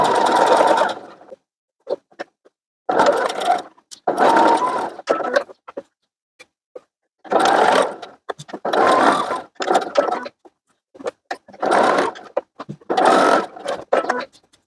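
A domestic sewing machine stitches and backstitches seams on a lined child's dress, running in loud, close bursts of a second or so separated by short pauses.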